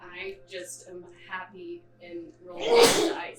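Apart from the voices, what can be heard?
sneeze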